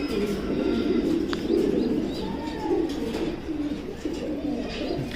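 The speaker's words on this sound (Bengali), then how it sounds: "তো ইয়ং কবুতর এই যে।" Young racing pigeons coo steadily in a loft, a low continuous murmur of many birds with an occasional sharper chirp rising above the soft, close cooing.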